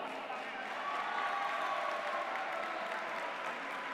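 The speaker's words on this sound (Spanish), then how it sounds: "Un fuerte aplauso para los dos." At a robotics competition final, an audience applauds, dense continuous clapping and crowd noise at moderate level with a faint tone running through it.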